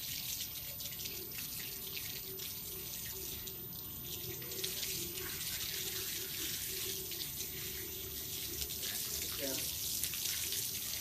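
Tap water running steadily as a dog is showered at an animal care centre in Luxor, Egypt, a soft continuous splashing hiss, fairly quiet and close, with no talking.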